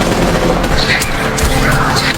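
Dense, continuous heavy gunfire with rapid overlapping shots and booms, loud and relentless throughout.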